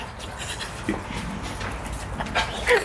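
A dog pants in quick, rhythmic breaths close by, with a few small whimpering squeaks near the end.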